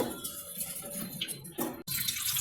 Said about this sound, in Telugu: చామదుంపలకి సరిపడా నీళ్ళు పోసుకోవాలి